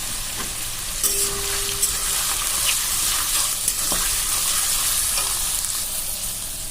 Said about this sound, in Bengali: এবারে এই তেলের মধ্যে আমি আলুগুলোকে ভাজবো।